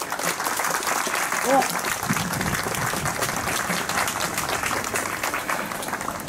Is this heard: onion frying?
no